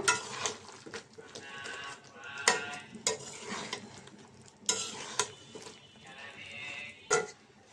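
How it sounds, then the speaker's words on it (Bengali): A spatula stirs pointed gourd, potato and teasel gourd with spices in a pan, giving intermittent scraping clatters and a soft sizzle. The stirring comes in several sharp bursts over a quiet background. "মশলা কষানোর সাথে পটল আলু দিয়ে দিলাম আর কাঁকরোল একসাথে কষাই নেব।"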